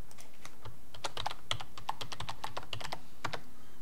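Someone types a password on a computer keyboard while changing a Windows 11 login, producing a close, quick run of crisp individual keystrokes with uneven rhythm and no talking.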